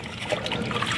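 Hot soapy water trickles and splashes continuously and close by while Yamaha CT-3 motorcycle parts such as foot pegs and cables are washed, a brief, busy liquid patter.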